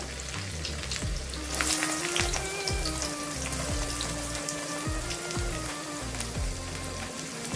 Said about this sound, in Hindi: इसी तेल पे ऐड कर देंगे, थोड़ा लहसुन ऐड कर देंगे। ये प्याज भी ऐड कर देंगे।